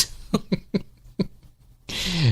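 A short series of dry coughs, about five close together, then a breathy, rising throat sound to finish.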